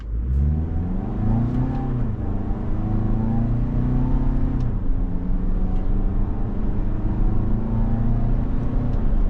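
Engine of a 2025 Toyota RAV4 XLE Premium rising and falling in pitch through several gear shifts and a downshift, steady and close throughout with no talk.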